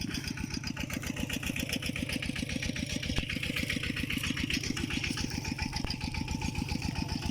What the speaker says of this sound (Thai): วันนี้ก็มาชมนะครับ รถไถนาน้อยนะครับ